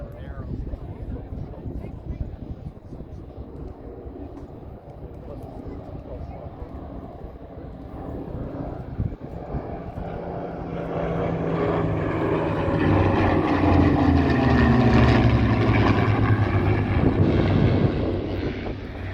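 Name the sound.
WWII fighter plane inline engines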